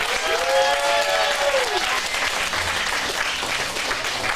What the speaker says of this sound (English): Give a round of applause for all the monologues.